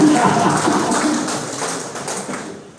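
Audience applause at a political volunteers' gathering: a dense wash of many hands clapping, fairly loud at first and gradually tapering off over a few seconds.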